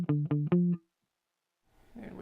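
Three short, clipped low reggae guitar bass-picking plucks with a low cut, in quick succession, then silence before faint sound returns.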